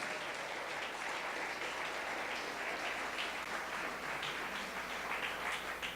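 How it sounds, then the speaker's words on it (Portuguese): A church congregation applauds Jesus during a worship service, a continuous, even roar of clapping from many hands, heard somewhat distant and fairly quiet throughout. "e dá uma salva de palmas para Jesus."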